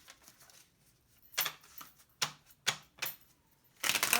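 Tarot cards being shuffled by hand, giving several separate dry riffling bursts spaced about half a second apart, close and fairly quiet, with a longer denser flurry at the end.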